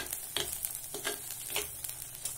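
Fresh coriander and mint leaves sauté in a pan, giving a close, moist sizzle broken by several rhythmic scrapes of stirring.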